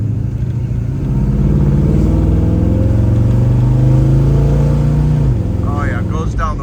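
A 1948 Chevrolet 3100 pickup truck drives down the road, its engine holding a loud, steady, close hum that rises in pitch and then drops away near the end.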